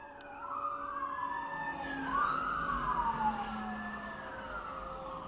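Sheriff's cars wail with rising and falling sirens while chasing a motorcycle, several sirens overlapping and sweeping in pitch over steady road noise, fairly distant but clear.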